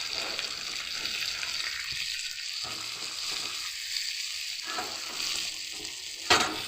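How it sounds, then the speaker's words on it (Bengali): Onions fried until reddish sizzle steadily in a pan with chopped tomatoes, under a continuous bright hiss with occasional stirring, ending in a sharp clatter near the end. "পেঁয়াজগুলো বেশ লাল লাল করে ভাজা ভাজা হয়ে এসেছে।"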